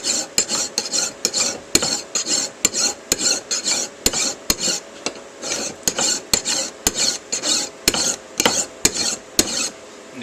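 A file rasps along a hatchet edge in steady, rhythmic back-and-forth strokes, each pass a gritty scrape marked by a sharp metallic click, heard close and alone.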